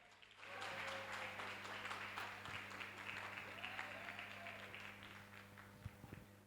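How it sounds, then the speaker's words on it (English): Audience applause fills a hall as a guest named Lungelo is welcomed to the stage at an inspirational talk, a steady, fairly faint wash of clapping with a low hum underneath and a few nearer claps near the end. "Please give him a round of applause."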